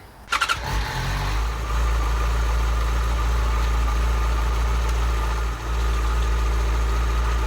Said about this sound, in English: Now I'm just going to start up the bike and check all the lights are working as they should.